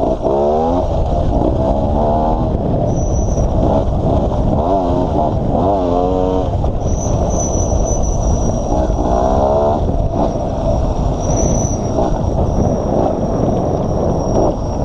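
A GasGas 250 two-stroke trial motorcycle engine runs close by, loud and continuous, with repeated blips of the throttle rising and falling in pitch.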